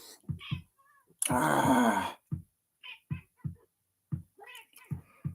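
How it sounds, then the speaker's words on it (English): A cat gives a drawn-out, loud wailing meow lasting close to a second, standing out between short spoken phrases from a nearby voice. "Oh yes, kitty cat."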